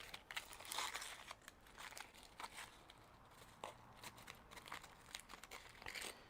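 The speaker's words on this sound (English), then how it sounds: "just remove this foil from the wing" Aluminum foil being peeled off a smoked Cajun-brined turkey wing, quiet close crinkling and crackling in irregular bursts, with no voices.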